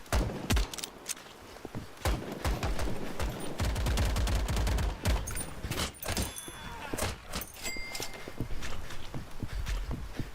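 Rapid gunfire from single-shot weapons in the Roblox shooter Phantom Forces, dense irregular cracks and clatter mixed with running footsteps and game effects, continuous and busy throughout.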